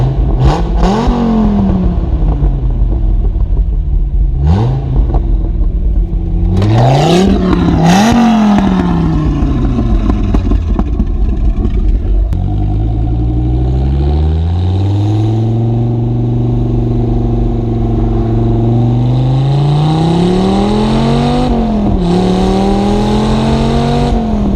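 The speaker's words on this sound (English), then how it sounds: "the pops and the crackles you got with the exhaust were just amazing" Modified Dodge Viper exhaust revving hard, loud and close, with rising and falling engine tones, sharp pops and crackles between blips, and sustained higher revs later on.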